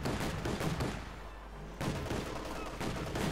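Dense, heavy gunfire and explosions from the Company of Heroes 2 strategy game, a continuous loud barrage with a brief lull mid-way before the firing resumes.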